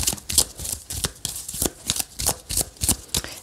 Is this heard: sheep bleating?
no